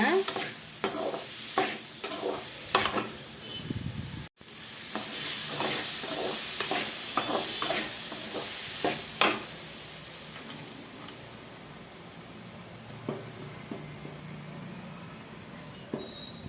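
Ingredients with dried red chillies sautéed in a pan for mango pachadi, a steady close sizzle with repeated scraping stir strokes, briefly cut near the start then continuing with clinks and softer frying toward the end.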